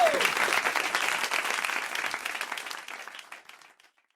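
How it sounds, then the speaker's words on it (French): A live radio studio audience applauds during a talk show, a full burst of many hands clapping that starts loud and steadily fades away to silence over about four seconds. "Seconde, mon public m'applaudit."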